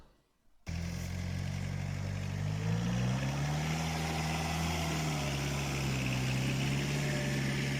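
A Prykarpattia mini tractor engine running under load as it works heavy, clay-like soil in a garden, a loud steady droning hum with a slowly rising and falling pitch, alone and close by.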